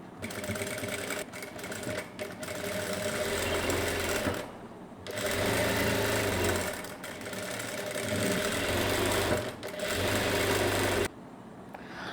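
Sewing machine stitching a dart on a saree blouse, running in long steady whirring bursts separated by brief pauses, close and clear with no voice over it.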